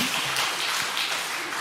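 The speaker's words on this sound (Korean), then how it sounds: "박수 한번 해주시기 바랍니다." A church congregation applauds together in the sanctuary, a full, steady burst of many hands clapping at moderate volume throughout, briefly and without any talking.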